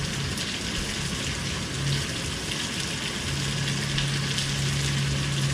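Beef and garlic frying in oyster sauce in a hot pan, a continuous dense sizzle with a faint tonal hum underneath, steady and close with no speech.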